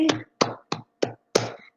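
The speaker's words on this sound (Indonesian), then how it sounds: "Kita tepuk tangan untuk Metri." A classroom of students claps hands in a short rhythmic pattern, five crisp, loud claps with brief silences between them and no talking.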